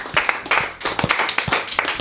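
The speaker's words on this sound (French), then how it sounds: "On peut s'applaudir." Nine office colleagues clap for themselves in a small room, a brief, loose patter of a few hands with distinct individual claps, close and uneven for about two seconds.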